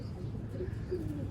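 A racing pigeon coos softly from close by in a loft, with a few low burbling notes over a faint background hum.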